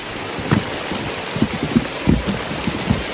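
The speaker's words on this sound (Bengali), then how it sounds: "ভয়াবহ বৃষ্টি" Heavy rain pours steadily, with scattered louder drops and splashes thudding through the dense, constant hiss.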